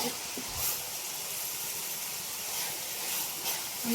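Tempering spices sizzle in hot oil (ginger paste, chilli, curry leaves, cumin and mustard seeds), giving a steady, fairly loud frying hiss with a few faint pops.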